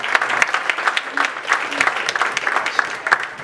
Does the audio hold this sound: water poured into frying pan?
no